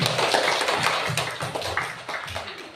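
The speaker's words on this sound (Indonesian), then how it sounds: "tepuk tangan buat kita semua." A classroom of students applauds, clapping rapidly and unevenly in a close, lively burst that fades slightly toward the end.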